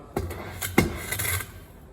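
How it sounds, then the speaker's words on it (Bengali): Two cups of sugar are poured into a cooking pot: a couple of light knocks, then a short gritty, rasping rush of granules that fades quickly. "2 কাপ চিনি ঢেলে দিলাম।"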